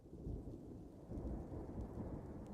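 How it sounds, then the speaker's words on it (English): Thunderstorm ambience in the game Dwarf Fortress, rolling thunder rumbling low over a steady wash of rain, with no one speaking. "The storm sound is probably coming from the game."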